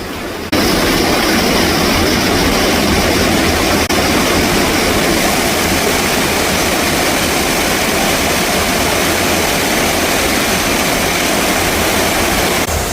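Satsada waterfall in Maharashtra, pouring in seven steps between parallel rock walls, gives a steady, dense roar that fills the whole clip without pause.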